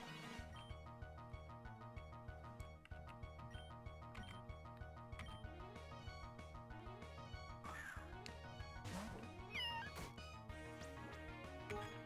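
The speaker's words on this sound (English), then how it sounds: "Cat fight!" Cat fight sound effects from the video game Pokémon Uranium, short meow-like cries and squeals rising over a steady, looping in-game music track.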